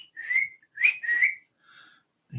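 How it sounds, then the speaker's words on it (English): A man whistles a short tune of a few clear, bright notes in bursts, close by and alone, ending with a brief low thump. "I need to work on my whistling"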